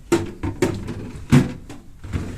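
The drawer of an Uğur UED 7246 upright no-frost freezer sliding open, a series of soft plastic thumps and scrapes, close and moderately loud.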